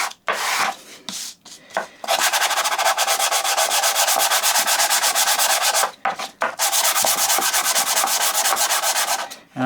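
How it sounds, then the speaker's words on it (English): Sandpaper working the wood of a 1960s Marples pin marking gauge along the grain, loud close rasping in fast continuous back-and-forth strokes with a few brief pauses, no talk. "so I'm just going to sand a little bit further"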